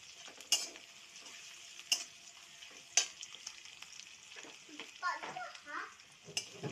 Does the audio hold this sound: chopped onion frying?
yes